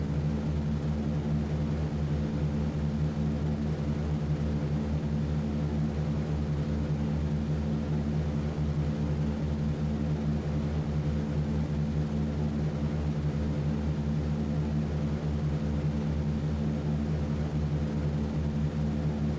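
In a flight game, the engines of a B-17 bomber drone continuously at takeoff power, a dense, even, loud rumble that holds steady throughout with no talking.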